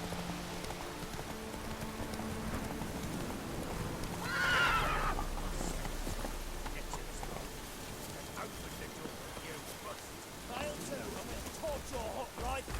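The horse Roach in The Witcher 3 video game gives a clear whinny midway, with soft hoof clip-clop and rain-like patter beneath a quiet game ambience.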